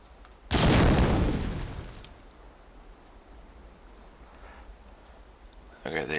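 A grenade goes off in the game Ghost Recon: War of Infamy during an Axis mission: one loud, close boom with a long rumbling decay, followed by quiet ambience and a faint burst near the end.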